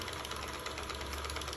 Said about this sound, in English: Winding a bobbin too quickly can create situations where